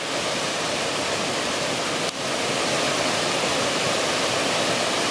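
A rowdy waterfall beside a wild camping spot roars as a loud, continuous broadband rush, steady and close with no voices.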